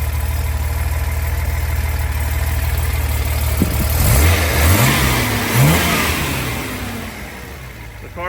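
A 1971 Datsun 240Z with a 2.4-litre engine and rebuilt carburetors idles with a steady low rumble, then is revved in several rising and falling blips. The sound is close, loud and has no voices over it.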